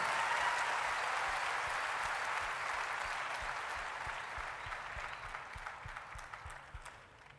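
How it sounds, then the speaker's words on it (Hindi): Loud, steady applause from a large crowd at a motivational success event in Lucknow, dense clapping that holds strong before gradually tapering off near the end. "एक बार उसके लिए जोरदार तालियां होनी चाहिए।"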